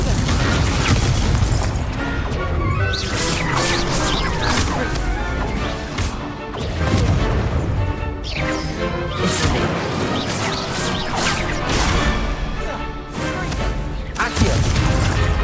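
Repeated Confringo fire-spell blasts in Hogwarts Legacy, loud bursts and crashes recurring every second or two over dense game music and effects, with brief spoken spell words.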